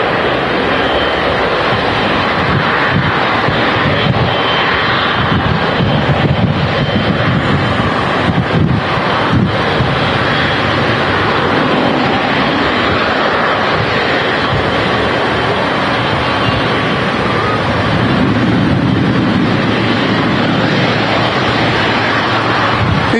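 Airplane departing Manchester Airport for Brussels, a broad sustained engine roar heard outdoors from a distance, heavily mixed with wind buffeting the microphone.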